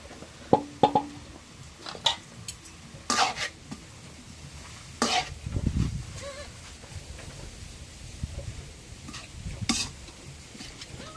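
Freshly boiled greens picked from a field are stirred in a pan as oil goes in, giving scattered scrapes, clinks and soft sizzling with a louder burst of frying midway, all fairly quiet.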